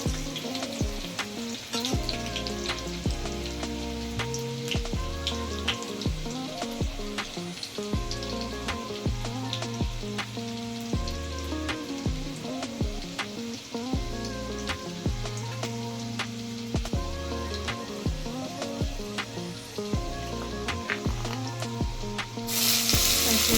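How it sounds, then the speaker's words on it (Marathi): Seven or eight crushed garlic cloves fry in hot oil toward golden brown for a Konkani-style prawn masala, a continuous close sizzle with scattered pops and crackles, no talking. "सात ते आठ लसणीच्या पाकळ्या आपण चेचून घेतलेल्या गोल्डन ब्राऊन करून घ्यायच्या"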